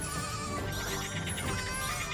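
A cartoonish goat bleats within a busy 2D coffee-collecting platformer, standing out against steady game music and effects for a couple of seconds, loud and close.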